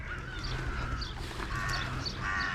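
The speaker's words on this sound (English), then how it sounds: "Listen to those birds." Birds call outdoors on a sunny day, several loud honking and cawing calls that repeat over a steady background.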